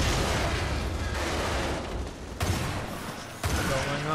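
Grenade explosion in the video game Lost Planet: Extreme Condition, a loud booming blast followed by rumbling debris and two further sharp bursts, dense and continuous with no talk.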